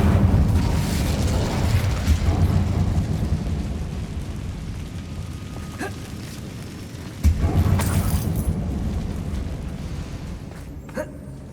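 In Hogwarts Legacy, a cast of the Incendio fire spell sets off a sudden close boom, then a roaring burst that fades, set against a continuous low in-game rumble inside a mine.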